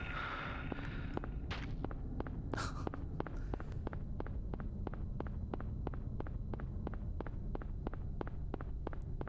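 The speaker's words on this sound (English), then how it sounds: "The footstep sounds are really good." Footsteps in the 1999 video game Silent Hill tap in a steady, evenly spaced rhythm, sharp and clear against a low background hum, after a few brief louder sounds at the start.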